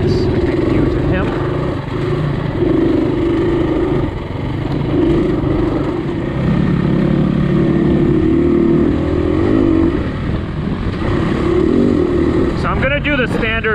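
Gas EX350 dirt bike engine running steadily on Michigan singletrack, a loud continuous drone with rising and falling revs throughout, voices talking over it.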